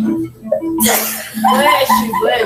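A person sneezes once, close and sharp, a sudden burst right after a short vocal buildup, followed by voiced sounds like a whimper or laugh.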